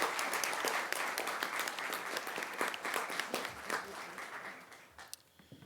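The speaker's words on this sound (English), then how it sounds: "Let's give them a round of applause." A school board meeting audience gives a round of applause for JROTC instructors, a steady spread of clapping from a room of people that thins out and fades at the end.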